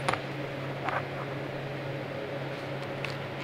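A welder idles in a workshop during a long-travel suspension build, giving a steady, fairly quiet electrical hum with a constant fan-like hiss and a few faint clicks, with no voices.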